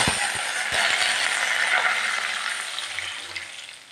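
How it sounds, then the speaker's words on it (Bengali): Water soaked with garlic, ginger and green chili poured into hot ghee with cumin seeds, a loud rushing splash and hiss up front that softens into a fading sizzle. "ঘিয়ের মধ্যে জলটা দিয়ে দিলাম।"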